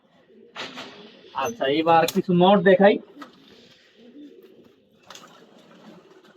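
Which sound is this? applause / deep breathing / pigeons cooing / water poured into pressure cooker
pigeons cooing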